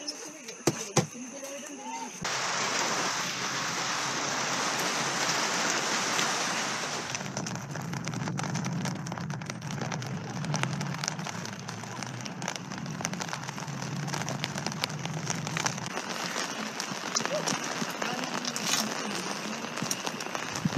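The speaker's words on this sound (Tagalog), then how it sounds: "Habang naghihintay nga kami guys na tumila yung ulan" Steady rain falling at a mountain campsite on Victory Peak in the Sierra Madre, Infanta, Quezon, a dense continuous hiss that grows heavier after the first couple of seconds and keeps on with scattered drips and patter throughout.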